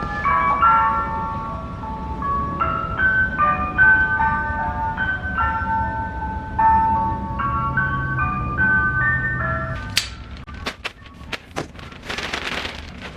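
An ice cream truck plays its tinkling melody from somewhere outside a garage, a series of bright chiming notes, followed by a few sharp knocks and clatters nearby near the end.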